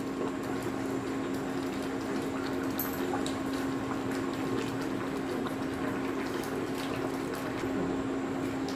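Tomatoes simmer in a pan while Goan whole masoor dal is being cooked, giving a soft, continuous bubbling and faint crackle at a steady low level, with no talking.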